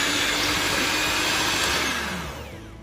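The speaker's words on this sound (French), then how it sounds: "On mélange soigneusement en fait la pâte au batteur pour avoir une consistance homogène" An electric hand mixer beats cookie dough with raisins and walnuts, giving a loud, continuous whirring drone that stays steady and then tails off toward the end.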